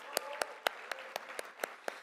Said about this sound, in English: let's give Congresswoman Napolitano one more big round of applause